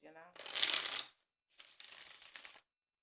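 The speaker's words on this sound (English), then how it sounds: "I want to make sure that I'm mixing cards" Tarot-style cards are shuffled for a card reading, close and crisp, in two quick riffling bursts separated by a short pause, with a faint voice before the first.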